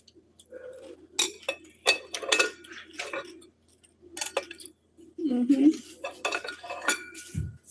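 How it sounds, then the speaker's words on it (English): A sharp kitchen knife slicing through a cucumber, giving a series of crisp, irregular clicks and knocks against the board, with a brief low thump near the end and quiet background noise in between. "cut this cucumber. Oh yeah, cuts like butter"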